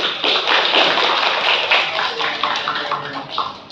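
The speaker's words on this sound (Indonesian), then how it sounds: "Cukup, tepuk tangan untuk kelompok 1." Classroom applause for a student group, a dense burst of clapping hands near and loud, fading slightly toward the end with faint voices underneath.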